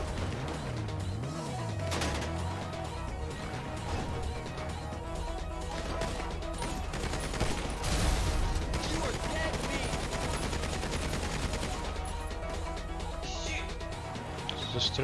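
Armor-piercing pistol fire in Grand Theft Auto V, with repeated sharp shots and crashes scattered through a busy stretch of game action. Voices talk intermittently throughout.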